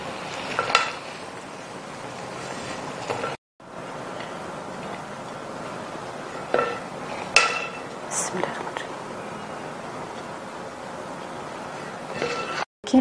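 Cooked biryani is mixed in a pot with a spoon, giving occasional scrapes and clinks against the metal over a low background hiss, and a voice talks throughout.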